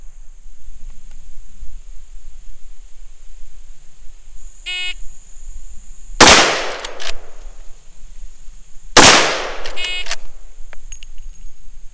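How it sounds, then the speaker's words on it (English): Two loud, sharp shots from a Marlin 1894 lever-action carbine fired left-handed at an outdoor range, about three seconds apart, each with a short echoing tail, plus a brief beep shortly before the first shot. "I have to fire two shots left-handed into the body of the target in a time limit of"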